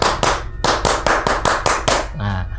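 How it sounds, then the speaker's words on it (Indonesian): A group performs a rhythmic scout clap, about eight sharp, loud hand claps in a quick patterned sequence, followed by a short burst of voices at the end. "1 kali tepuk pramuka."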